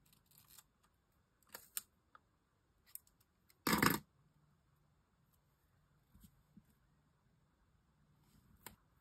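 A single short burst of scissors snipping, close and crisp, amid quiet handling clicks and small taps.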